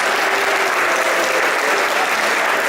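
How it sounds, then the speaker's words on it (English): Audience at a museum reopening event applauds the board members, a steady dense wash of many hands clapping continuously, loud and sustained with no talk over it. "Let's give them a round of applause"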